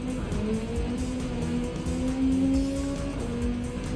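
Race car engines in the video game Gran Turismo 7 drone and whine continuously at Mount Panorama, shifting in pitch as the cars, including a Corvette, speed along, with faint tire noise and no talking.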